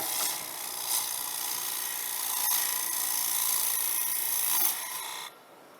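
A lathe tool cuts spinning wood with the bevel rubbing, giving a continuous close scraping hiss with small surges, before cutting off abruptly near the end.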